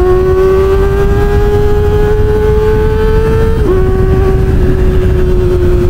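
A Kawasaki Ninja ZX25R engine screams at high revs, pitch climbing steadily, then dips sharply in a quick clutchless upshift before rising again under heavy wind rush, loud and close with no talk.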